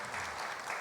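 An audience claps at a convention panel, a short, dense patter of applause from many hands in a hall, steady and moderately loud without speech over it.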